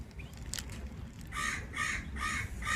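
Crows caw in a short series of three harsh calls, fairly loud and near, over low outdoor background noise on a roadside stop during a bike trip from Delhi to Jodhpur.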